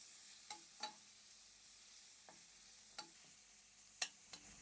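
Onions fry softly in a pan for Mangalorean crab sukka, a faint steady hiss broken by a few sharp ticks and pops, with no one talking.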